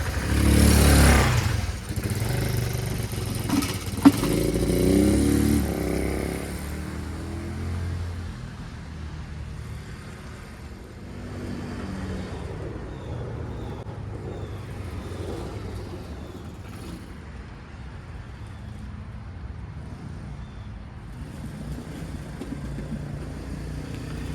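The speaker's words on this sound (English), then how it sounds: "I hope it starts." A Chinese 150cc motor scooter heard up close, loud at first as the engine starts and revs, then settling into a quieter steady idle with light mechanical clatter.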